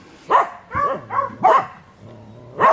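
Dogs barking in short, sharp bursts, about four or five barks with brief gaps, close and fairly loud.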